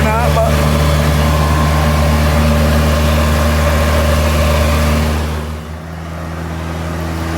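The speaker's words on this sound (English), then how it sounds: "We have a running MG" A 1976 MG Midget engine idles steadily and loud right up close, holding a constant hum that dips briefly near the end before settling back in.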